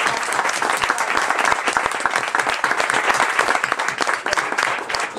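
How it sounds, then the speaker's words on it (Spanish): An audience bursts into sustained applause after a talk with public prosecutors in Marbella, a dense, even patter of many hands clapping for several seconds, loud and close. "Un aplauso."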